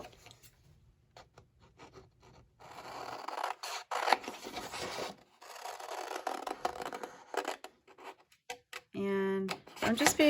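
Scissors snip through a paper pillow box for an Easter craft, cutting along traced lines in a run of short rasping cuts with brief pauses, fairly close and moderately quiet, with a loud burst near the end.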